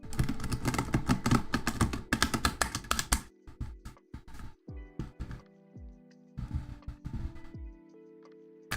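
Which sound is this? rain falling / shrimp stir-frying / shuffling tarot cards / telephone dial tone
shuffling tarot cards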